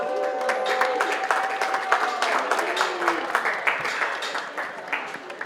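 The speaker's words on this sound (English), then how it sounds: "how about another round of applause?" Steady applause from a crowd at a polo match awards podium, dense clapping with some cheering voices mixed in, moderately loud throughout.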